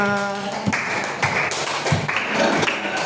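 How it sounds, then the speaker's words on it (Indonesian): A class of students applauding together in a classroom, loud group claps landing in short rhythmic bursts close by, with some tonal noise in the room behind them. "kasih aplaus untuk semuanya"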